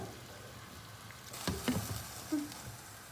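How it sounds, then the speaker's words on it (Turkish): Soft bubbling and sizzling from a pot on the stove, quiet and steady, with a few light knocks. "Çorbamız da kaynıyor canlar."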